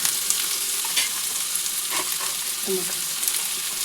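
Chopped vegetables, including onion for a thoran, fry in hot oil with a constant loud sizzle and occasional stirring scrapes; a voice speaks briefly over the cooking.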